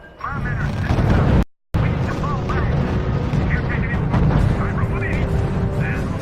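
Heavy artillery fire in the real-time strategy game R.U.S.E, a dense rumbling barrage of booms and blasts rolling on continuously, with a short dropout early on and talking voices over the battle.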